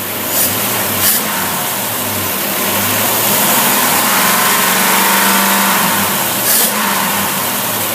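A Buick car engine idles with a loud, steady low rumble and rough, uneven pulsing, heard close up throughout with brief clicks and no talking.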